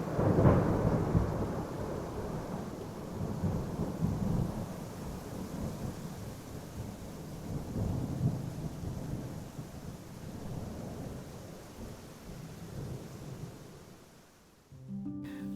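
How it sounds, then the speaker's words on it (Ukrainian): Heavy rain pours steadily with deep rolling thunder rumbling through it, loudest at the start and swelling again midway, continuous and without voices before it cuts off abruptly at the end. "Дощ лив ще дуже довго."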